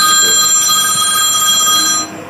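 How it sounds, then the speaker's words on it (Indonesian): An electric school bell rings loudly and continuously, a bright metallic ring that cuts off just before the end. "Bel sekolah ya."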